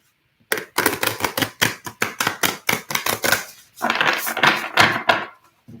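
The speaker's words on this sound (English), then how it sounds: "As you can see, they're a little hard to shuffle." A deck of brand-new, stiff oracle cards is shuffled up close: a rapid run of crisp clicking snaps, a short pause, then a denser riffling burst, loud and alone.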